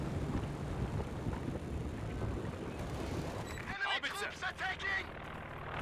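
Artillery barrage in Company of Heroes 2, a 2v2 match: dense rumbling fire and blasts for nearly four seconds, then a sharper run of crackling impacts, all loud and close under a continuous bed of battle noise.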